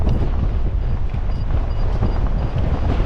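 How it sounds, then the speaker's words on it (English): Strong wind gusts across a beach, buffeting the microphone with a loud, constant low roar and no speech. "It is so windy down here."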